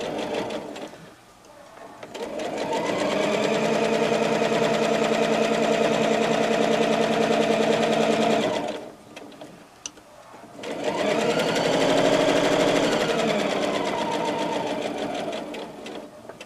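Sewing machine stitching a scrap-fabric pot holder, a fast steady mechanical whir running in two long bursts separated by a short pause, loud and close with no talking.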